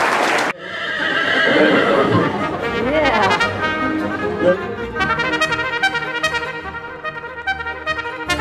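A horse of the American West whinnies loudly and close, a long wavering neigh after a sharp onset, followed by snorts and further shaky neighing calls with faint hoof clip-clop.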